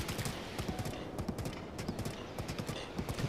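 Horse hooves clip-clop in a steady galloping rhythm in the video game The Legend of Zelda: Breath of the Wild, close and continuous over faint background ambience.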